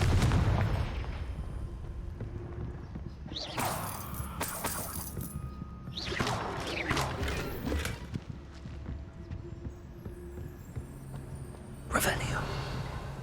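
The Confringo fire spell in Hogwarts Legacy bursts in a few rumbling blasts, spread over a quiet, low background of game ambience with faint hushed voice sounds.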